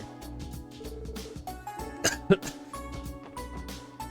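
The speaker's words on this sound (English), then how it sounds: "I just coughed in case it cancels out my cough" A single sharp cough stands out against a quiet background hum with faint tonal music.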